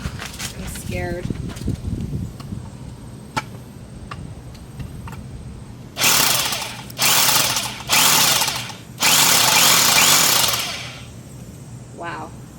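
A huge drill runs outdoors in four loud, harsh, roaring bursts of a second or two each, coming after a stretch of talking and faint clicks.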